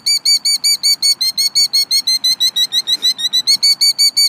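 A bird calls in a fast, regular series of loud, sharp repeated chirps, about five per second, close to the microphone and continuing without pause, with no voices over it.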